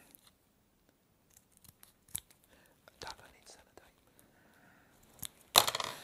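Scissors snip a small window piece for a scratch-built model railway building, a few sparse close cuts and rustles, ending in a sharp loud snip, with quiet talk in between.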